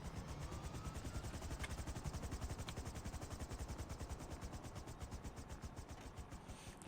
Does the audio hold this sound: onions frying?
no